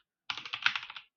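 Rapid typing on a computer keyboard while a Python version install command is entered, a dense run of even keystrokes close by for about a second, with no voices.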